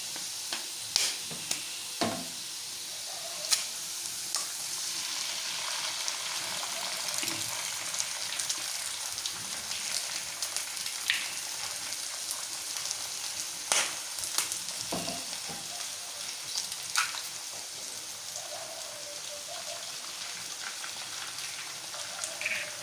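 An egg fries with onions in a pan, making a soft, continuous crackling sizzle that is fairly quiet. Small pops and scraping stir sounds are scattered through it, with no voices.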